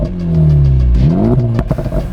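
A 2024 Acura Integra Type S, its 2-liter turbocharged inline-four with a manual gearbox, revs up loudly and close, the pitch climbing and then dropping back, followed by a few quick throttle blips near the end.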